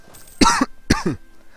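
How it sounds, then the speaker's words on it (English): Two short, rough coughs close to the microphone, a brief pause between them, with nothing else around. "Cough cough"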